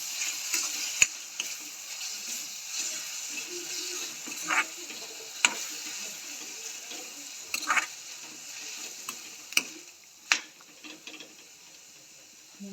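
Spices being stirred into a frying tomato mixture in a pan for Kathiyavadi sev tameta shaak, with a steady sizzle under sharp, scattered scrapes of the spoon against the pan and no talk.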